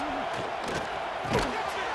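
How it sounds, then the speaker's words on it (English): A stadium crowd in EA Sports College Football 26 roars in a dense, sustained wash of cheering, with a brief louder swell near the end. "This place is roaring"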